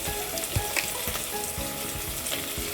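Onions fry with a dense, close sizzle, the hiss thickening as grated ginger, garlic and cumin seeds hit the hot oil, with a few stirring scrapes and no voices.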